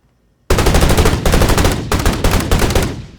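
Layered gunfire built for game audio in REAPER bursts in abruptly after silence as a loud, rapid automatic volley with short gaps, tailing off at the end.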